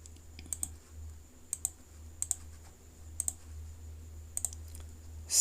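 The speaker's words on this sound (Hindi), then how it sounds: "मान लीजिए प्रथम वादी कमलेश है तो हम कमलेश का नाम लिख दिए" A name is typed into an online court fee payment form on a computer keyboard, with sharp close clicks in quick pairs spaced about a second apart over a low steady background hum.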